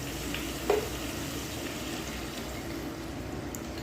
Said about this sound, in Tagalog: lagyan po natin ng konting water para ma-absorb yung chicken ang ating bagoong